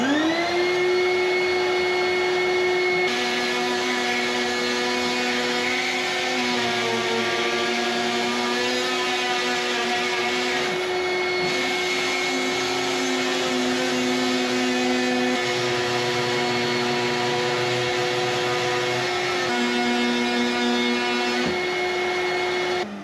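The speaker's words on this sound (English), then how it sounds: "the vacuum definitely helped" A shop vacuum sucks up debris while a wood stove is being installed. It gives a loud, steady motor whine with a constant high pitch, and the airflow tone shifts slightly as material is pulled in.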